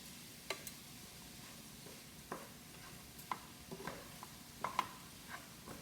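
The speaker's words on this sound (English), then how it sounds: "Just stirring this around, getting all the rice wet from that liquid, and giving it an opportunity to cook in there" Rice being stirred in a pan as it soaks up cooking liquid, soft scraping and scattered spoon taps against the pan over a faint simmer, close but quiet.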